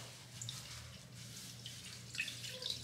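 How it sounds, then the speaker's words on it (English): Water drips faintly as a synthetic wig is wrung out over a tub, with soft scattered droplets landing mostly toward the end over a low, steady background hum. "we're just gonna go ahead and wring it out little by little, little by little"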